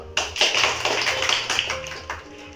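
A group of girls clapping their hands together in a classroom-style learning game, a burst of sharp, overlapping claps that starts abruptly and continues unevenly for a couple of seconds before tapering off.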